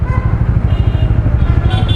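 Bajaj Dominar 400 motorcycle cruising on an Indian highway, its single-cylinder engine thumping in a fast, even pulse close to the mic, loud and steady with wind noise over it and no talking.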